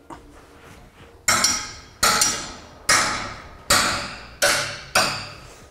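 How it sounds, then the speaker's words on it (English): A metal trailer brake controller bracket is bent in a shop vise, giving five loud, evenly spaced metallic strikes or clanks, each ringing briefly and decaying, after a quieter start with no talking. "I'm just going to use a vise here in the shop to hold this as I apply a little bit of force to bend that."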